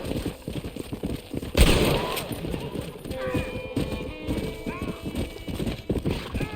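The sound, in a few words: horse galloping, from video game Red Dead Redemption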